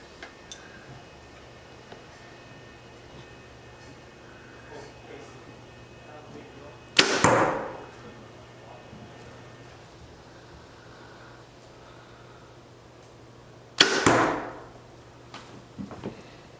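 Two sharp arrow shots from a bow, several seconds apart, each a crisp snap and thwack followed by a brief ringing, over a quiet room hum.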